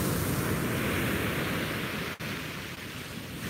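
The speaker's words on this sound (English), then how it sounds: "And what about these waves this morning?" Ocean waves break steadily on a beach at sunrise, a continuous broadband roar of surf with a brief dip partway through, close and loud with no talking.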